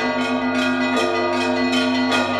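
Church bells ring steadily in dense, overlapping peals during an Orthodox cross procession around a cathedral, with no talk over them.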